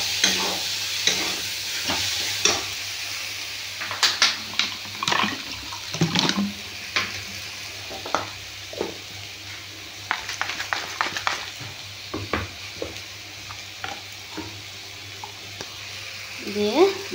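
Okra sautéed and stirred with mustard, green chilli and chilli powder, giving intermittent scraping and stirring clatters over a low, steady sizzle, close by and moderately loud.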